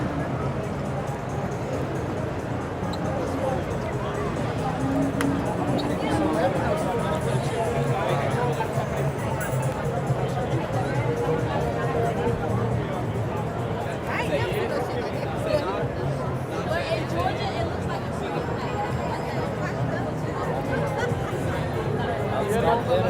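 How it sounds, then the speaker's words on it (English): Dense, steady babble of a packed Times Square crowd in Manhattan on a lively Saturday, many overlapping voices close and far with occasional footsteps, continuous throughout. "in Times Square, you need to like merge into the crowd because that's how crowded it is"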